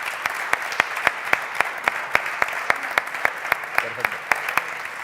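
A conference audience at a morning session of a film-shoot event in Teruel gives full, sustained applause, with sharp, evenly spaced claps standing out above the wash of hands in a steady rhythm.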